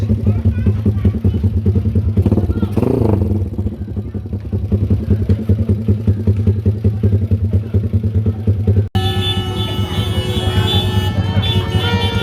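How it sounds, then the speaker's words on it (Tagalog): A motorcycle engine warming up idles steadily up close, a loud, even throb that briefly cuts out near the end and then resumes with a brighter, busier tone. "So, painit na tayo ng mga motor!"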